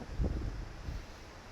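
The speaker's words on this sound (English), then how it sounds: "apologize if you hear wind on the mic." Low, soft rumbling gusts of wind brushing the microphone, faint and uneven, with no voices.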